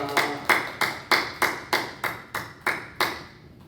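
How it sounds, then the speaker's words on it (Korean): Congregation clapping in unison at a Wednesday evening church worship service: about eleven sharp, evenly spaced claps in a steady beat, fairly loud and close, with no talking. "우리 모든 영광 하나님께 박수를 올려드리겠습니다."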